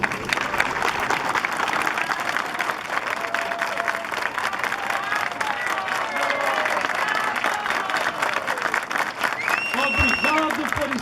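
A large crowd claps steadily and loudly for Brazilian World War II veterans at a memorial ceremony at the Brazilian cemetery in Pistoia, Italy. The sustained applause runs throughout, and a voice speaks near the end.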